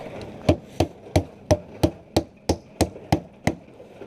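Nails are hammered at a stone arch build, with about eleven sharp, evenly spaced hammer blows ringing out close and loud at a steady rhythm, with no talk over them.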